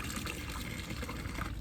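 Hot soapy water pours through the dispenser of a slushie machine in a steady, close gushing stream that runs without a break for over a second. No voices are heard.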